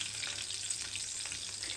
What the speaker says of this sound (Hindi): तो जर्दी नूं आपां एवें पकाना है, इनू हिलाना हलूना नहीं है